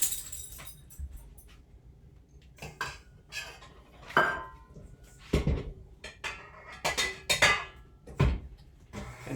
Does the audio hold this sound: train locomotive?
no